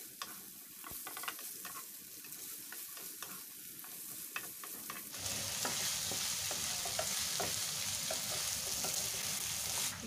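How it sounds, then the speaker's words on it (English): Zucchini and pork belly fry in a pan while being stirred, making a continuous sizzle with scraping stir strokes that swells louder and hotter halfway through. "I'll fry all together and then add salt"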